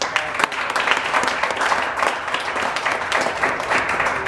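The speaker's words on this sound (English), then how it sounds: "So let's give them a round of applause." Steady round of applause from an audience at a Detroit tech meetup, dense overlapping claps at even loudness throughout.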